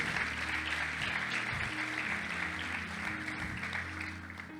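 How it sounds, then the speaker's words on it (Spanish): Sustained applause from a church congregation, dense and steady over a low hum of tones, fading slightly toward the end with no clear talk on top. "Dale palmas al Señor."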